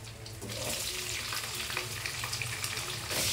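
Onions and green chilies frying in oil in a pan for Andhra-style brinjal pulusu, a steady close sizzle running throughout with faint stirring clatter, no talk.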